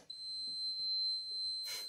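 A newly installed fire alarm panel emits a steady high-pitched electronic beep that holds continuously, fairly quiet, and ends with a short burst of broadband noise.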